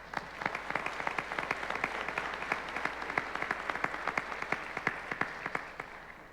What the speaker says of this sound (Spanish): También pido un fuerte aplauso para él.